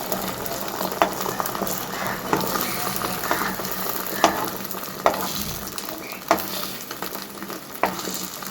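Egg omelette with chopped onion and salt frying in a pan, a steady close sizzle with sharp scraping clicks of a spatula stirring every second or so, no talking.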